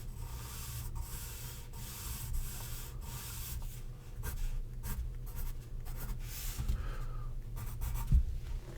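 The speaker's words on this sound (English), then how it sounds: "So I shall draw that caterpillar." A pen or pencil draws a caterpillar on paper during a math lesson, close scratchy strokes in short repeated bursts with brief pauses between them, no talking.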